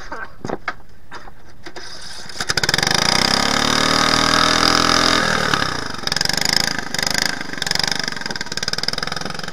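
An engine turns over, then idles with a rumbling, chugging drone for several seconds before cutting back, with brief clicks and noises around it.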